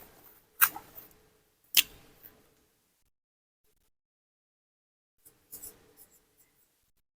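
A few sharp taps and scratches of writing on a board during an English grammar lesson on nouns, heard in two quick bursts, then a long silence and a fainter cluster near the end; no voice.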